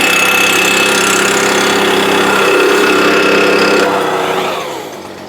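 A Stihl BR200 leaf blower's small two-stroke engine runs steadily at a loud, buzzing idle just after a pull start, then eases down slightly near the end, with no talking.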